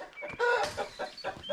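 Chickens cluck in short, close bursts, a few quick clucks tumbling over one another.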